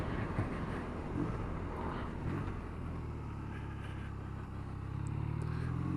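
A BMW R nineT motorcycle accelerating in second gear, its engine a steady droning rumble under heavy wind buffeting, rising slightly in pitch toward the end.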